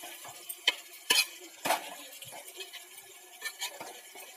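A spoon stirs chicken pieces coated in masala, onion and ginger paste in a pan, making faint, irregular scrapes and taps against the metal with a soft wet sizzle underneath.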